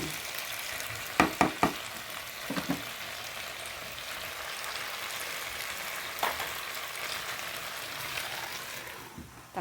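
Vegetables frying in a pan for a home-cooked Filipino ginisang gulay, a steady close sizzle with a few sharp clatters of a utensil stirring against the pan early on and again midway.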